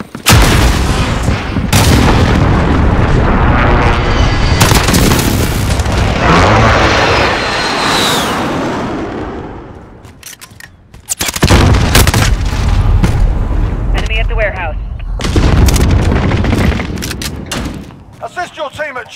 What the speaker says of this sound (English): Be advised, friendly Allied cruise missile away.